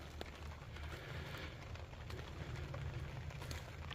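Steady rain falls at a Jeep campsite, a continuous broadband hiss of drops pattering on surfaces nearby, with a low rumbling undertone and no voices.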